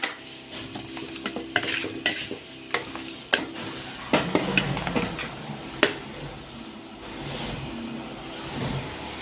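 Chicken pieces being mixed with soy sauce and chili sauce in a bowl, with irregular scraping and clinking of a utensil against the dish, close and moderately loud, without talk.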